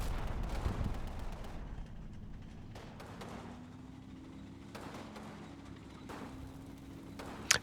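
Infantry rifle shots in the Combat Mission wargame crack sporadically at a distance over a low rumbling engine-like drone, several scattered reports and a sharper shot at the end, with no voices.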